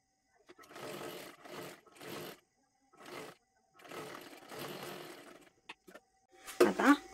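Sewing machine stitching saree fabric with a lining laid on top, running in several short, moderately loud bursts with gaps, ending in a sharper clatter.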